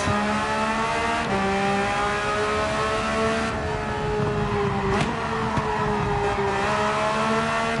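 Race car in Gran Turismo 7 at the Red Bull Ring, driven from a hood camera view with load cell pedals while trail braking: a steady, loud engine tone that shifts pitch as revs drop and climb, with brief tire squeal.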